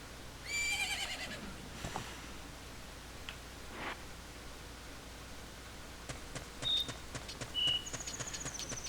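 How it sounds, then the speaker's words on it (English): A horse neighs in the Zelda: Majora's Mask video game, a brief whinny followed later by short high game chimes, heard alone over a faint steady hiss with no talking. "And I heard a horse."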